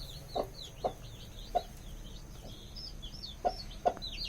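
Several short, soft clucks from a white hen at irregular intervals, with faint high chirps from her newly hatched chicks scattered throughout, close by and without talk.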